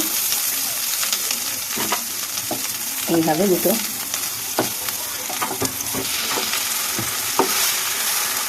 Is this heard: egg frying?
yes